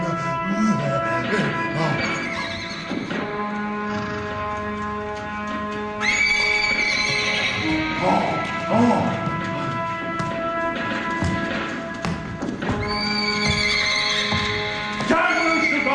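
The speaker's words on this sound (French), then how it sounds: "Calme le cheval, calme." A horse neighs and whinnies repeatedly in loud, ringing bursts over a busy background of music and occasional hoof clatter.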